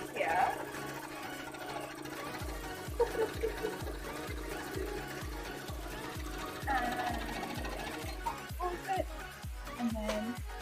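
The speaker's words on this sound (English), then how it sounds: "we are just giving some line stitches in here" A sewing machine stitches lines into a custom mannequin in a quiet workroom, running in a steady rapid rhythmic chatter with short pauses and restarts, and faint voices in the background.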